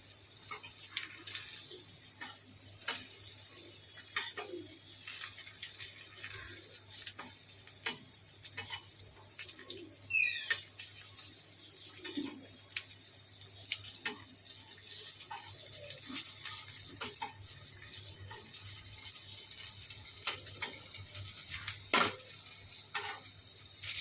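Snake gourd frying in oil in a home kitchen pan, a steady soft sizzle running throughout with scattered crackles and a few small clinks, fairly close and continuous, no voices.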